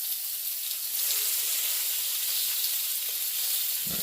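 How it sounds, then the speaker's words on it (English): Salmon grills on a bed of onion slices over a grill oiled with olive oil. A steady, bright sizzle hisses throughout, close and even, with no talking. "I'm basically gonna grill my salmon on top of these onion slices"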